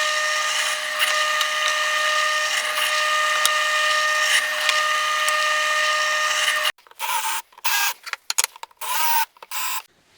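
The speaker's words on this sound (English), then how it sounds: "Set this up on the drill press and we'll begin drilling." Drill press boring into ash wood for screw holes, a steady high whining motor drone for several seconds, then chopped bursts as the bit cuts in and out of the wood.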